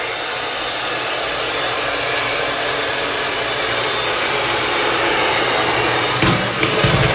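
A hair dryer runs steadily and loudly throughout while hair is blown forward to add height, with a brief shift in airflow near the end.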